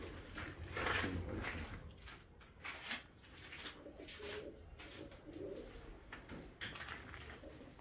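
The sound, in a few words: pigeons cooing in a pigeon loft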